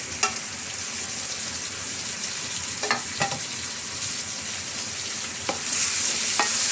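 Sautéed upo (bottle gourd) stirred in a pan, a steady sizzle broken by several sharp scraping clicks of the utensil, close and moderately loud, growing slightly louder near the end.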